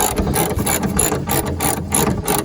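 Rapid, close ratchet clicks in quick bursts as a hood bolt is loosened on a Mk4 Volkswagen Jetta, with no voices.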